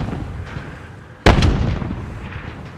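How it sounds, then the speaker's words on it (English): A sudden loud burst of gunfire at about 1.3 seconds in Call of Duty: Modern Warfare, a sharp blast followed by a quick second crack and a fading tail over low game ambience, with no talk. "I hear somebody shooting."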